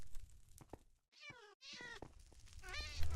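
Cats in the Minecraft video game meow several times, with clear, rising-and-falling game meows close by, separated by short gaps, over quiet background game sounds.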